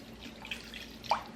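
Water poured into a pot of raw chicken and vegetables, heard as faint, sparse splashes and drips with two small bursts, quiet and close, no talking.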